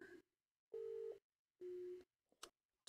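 Electronic phone call tones from an accidental butt dial: two steady, loud beeps about half a second each with a gap between, followed by a few brief clicks.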